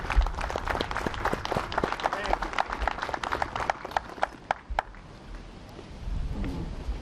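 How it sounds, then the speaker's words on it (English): Outdoor crowd applause for helpers at a Pecanapalooza military timeline event, a crackling burst of scattered claps that fades out after about five seconds into open-air background noise. "I'd like you to please kindly give a round of applause for these gentlemen who came to help today"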